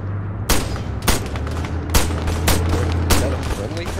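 A tank opens fire during an infantry battle in the military game Arma 3, with a series of loud, booming shots spaced about half a second to a second apart over a rumbling background.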